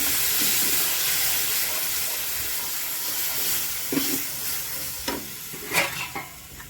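Water poured into roasted semolina (rava) in a hot pan for rava kesari, a steady steamy sizzle and hiss with a few sharp spattering bursts toward the end, close up and with no talking.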